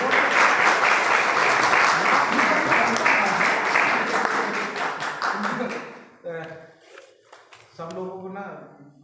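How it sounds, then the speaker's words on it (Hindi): An audience at a religious discourse gathering breaks into loud, sustained clapping for several seconds; the applause then fades and voices take over. "जोर से ताली बजाओ गुरुदेव।"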